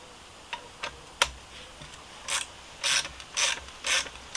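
A spring compressor on a Fiat 500 front shock absorber is tightened with a ratchet, giving a few isolated clicks and then a run of louder, regular ratcheting bursts close by.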